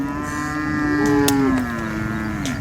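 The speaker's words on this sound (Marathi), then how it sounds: "ही गाय आहे ज्युपिटरमध्ये," A Holstein Friesian (HF) cow at a cattle market lets out a loud, sustained moo lasting most of the two and a half seconds, with a rising tone in the middle, heard alone over steady market background.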